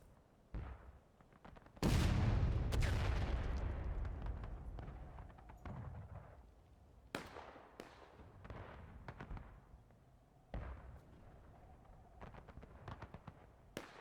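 Artillery in the Civil War video game War of Rights, a heavy booming blast followed by a run of sharp cannon and musket reports, some near and some distant, spread irregularly across the battle.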